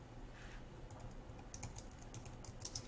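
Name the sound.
typing on a computer keyboard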